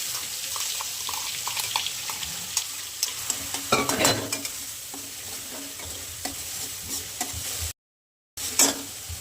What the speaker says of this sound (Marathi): मोहरी टाकून घेते याच्यात थोडीशी आहे ना जिरं पण टाकून घेते मी याच्यात.